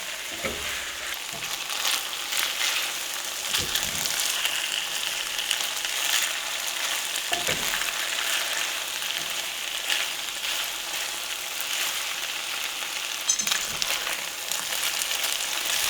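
Food frying in a hot pan, a steady bright sizzle throughout with occasional soft knocks of stirring, close and moderately loud.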